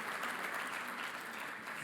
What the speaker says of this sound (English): Give your guys yourselves a round of applause.